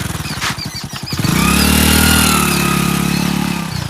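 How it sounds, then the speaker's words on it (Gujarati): A motorcycle pulls up nearby, its engine first chugging in quick pulses and then settling into a loud, steady droning rumble that fades slightly at the end, with no talking. "આઈ ગયા પા બાઇક લઈને"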